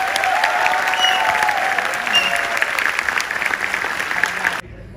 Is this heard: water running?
no